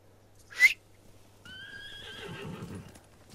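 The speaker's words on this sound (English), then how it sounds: "I get to call my horse." A horse neighs in the video game Ghost of Tsushima: one loud whinny, then a longer, clear neigh with snorting breath and a faint low hum under it.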